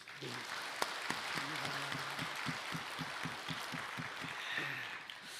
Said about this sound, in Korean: 성령님께 환영의 박수.